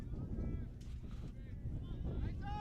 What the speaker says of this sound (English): It's also getting very windy, Micah.